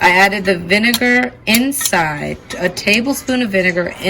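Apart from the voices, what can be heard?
No distinct noise like a dog, phone or traffic.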